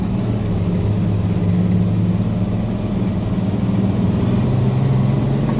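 A loaded Tata BS6 truck labours up a gradient, its engine a close, steady low drone that holds an even pitch throughout, with no voices.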